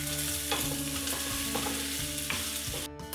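Two ounces of chopped bacon fry and render in a warm oiled pan, a dense continuous sizzle broken by regular scraping stirs of a utensil, close and fairly loud with no talk.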